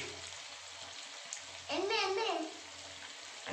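Bottle gourd kofta balls fry in a small batch of oil over a low flame, giving a faint, steady sizzle with a brief louder tonal swell midway.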